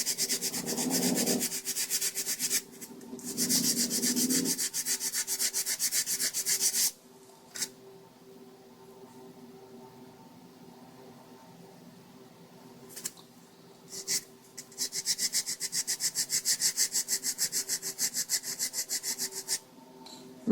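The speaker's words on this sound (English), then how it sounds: "So what you take is some emery cloth and put it on your finger, kind of like that, and you just rub the brushes on here." Emery cloth rubbed by finger over the carbon brushes of a squealing power drill, a close, dry rasping scrub in long repeated bursts separated by quiet pauses.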